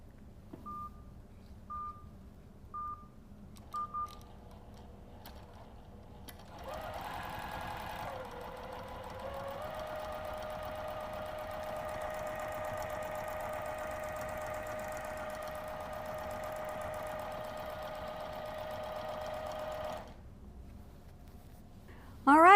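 A long-arm quilting machine with a Surestitch Elite speed control hums at a steady pitch for about thirteen seconds, preceded by a few short electronic beeps, with a second tone joining partway through before the motor cuts off.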